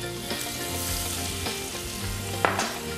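Butter and flour sizzling and crackling in a pot as a roux for pea soup, a steady close fry with occasional clinks of a whisk or spoon.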